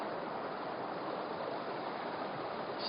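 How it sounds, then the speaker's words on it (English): A creek flows along the Woodbine Falls Trail in Montana, a steady, dense rush of water that stays close and even throughout, with no pauses or voices. "Look at this creek"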